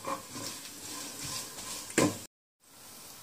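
Urad dal frying in a pan: a soft, moderately quiet sizzle with light stirring scrapes and one louder scrape near the end, then a short break in the sound before a faint hiss resumes, no voices.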